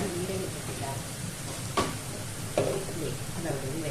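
Garlic fries in a pan for tomato rice under a continuous close sizzle, with two sharper scraping stirs of a spoon cutting through the hiss.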